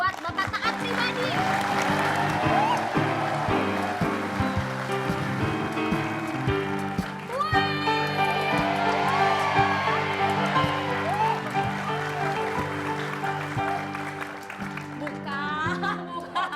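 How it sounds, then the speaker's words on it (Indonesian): A studio audience at an Indonesian TV talk show applauds in a sustained, dense clatter of clapping under music, with a host's voice cutting in partway through. "kasih tepuk tangan yang meriah buat Bapak Taat Pribadi"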